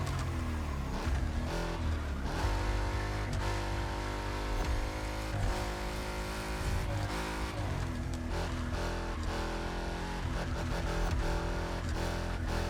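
A Ford GT roars through a race in The Crew Motorfest, its engine droning loud and steady with rising and falling revs and gear shifts throughout, no one talking.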